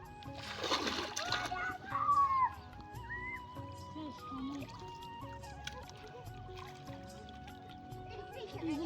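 Water splashes loudly and close as someone wades neck-deep through a Sundarbans stream while fishing, a brief burst of churning at the start, then quieter lapping under a man's speech.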